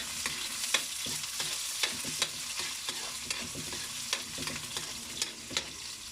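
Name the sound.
onion and ginger frying in a hot pan for ginataang santol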